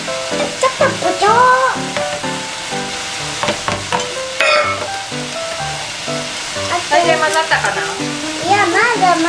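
Japchae noodles made in a microwave get stirred in a bowl, giving a run of wet, squelching scrapes and clacks close by, while a parent and child chatter and sing over the mixing.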